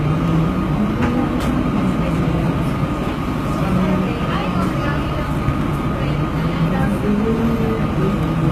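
A train passing near a live-streamed event, a loud continuous low rumble and rolling rail noise filling the whole span, with speech mixed in over it.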